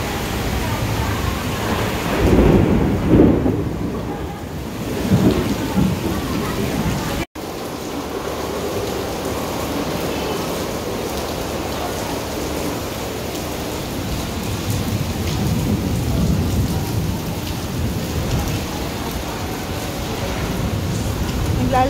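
Heavy rain pours steadily during a thunderstorm, heard from an indoor lobby near a playground, a dense, continuous roar with a low rumble, nearly constant throughout.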